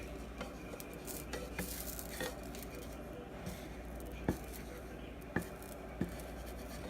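Soft, steady sizzle of protein pancake batter cooking in a pan, with a few sharp clicks of a utensil against the pan and no voices.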